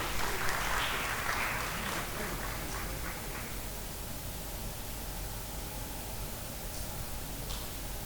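An audience at a mining awareness event in Guinea applauds a speaker, a broad, steady patter of clapping that is fuller at the start and then settles into an even, slightly fading wash.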